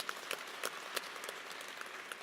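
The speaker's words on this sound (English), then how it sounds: "Give us another warm round of applause." Faint, distant applause fills a hall at a university event introducing a new head football coach, a thin patter of many hands with a few sharper claps.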